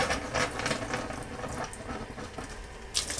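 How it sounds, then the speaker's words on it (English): Cold water runs from a faucet with a hose attached, a soft, steady splashing flow that stays fairly quiet with no talking. "turn on the cold water."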